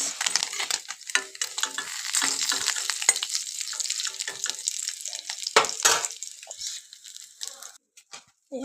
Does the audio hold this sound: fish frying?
yes